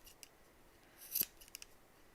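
A few quiet snips of scissors cutting embroidery floss for pom poms, with one sharper cut near the middle among faint clicks, in an otherwise quiet room.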